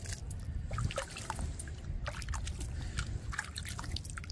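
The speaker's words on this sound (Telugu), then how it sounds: "ఇదిగోండి వాటర్ చల్లుకోవాలి" Water is sprinkled by hand over damp soil covering freshly sown gongura seeds, a soft, continuous patter of drips and trickles close by, fairly quiet with no talk.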